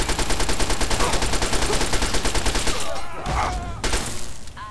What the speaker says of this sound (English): Or gunfire.